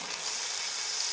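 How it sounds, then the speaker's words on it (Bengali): Loud steam and sizzle as water hits a hot pan of potato and poppy seed curry with drumstick, a dense hiss running steadily through the brief moment. "এখন আমি আর একটু জল দেবো"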